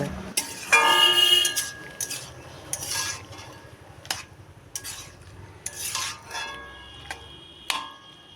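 A spoon scrapes and clinks in a pan while stirring a vegetarian pui shak (Malabar spinach) curry thickened with flour, giving soft intermittent scraping strokes and light metallic taps at a quiet, close level, with no voices.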